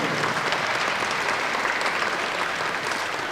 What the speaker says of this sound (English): Round of applause for the Poland.